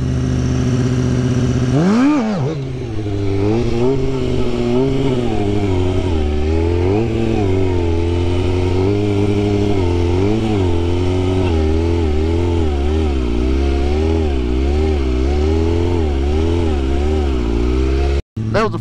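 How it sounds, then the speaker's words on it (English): A motorcycle engine revs loudly and close during a wheelie, its pitch surging and dipping in repeated throttle blips over a steady low rumble, then cutting out abruptly near the end. "That was the first wheelie of the day"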